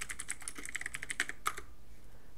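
Commands go in on a computer keyboard during a network fix on a Windows PC: a quick, light run of close key clicks for about a second and a half, then quiet.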